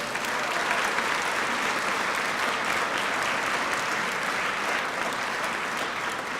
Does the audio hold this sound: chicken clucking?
no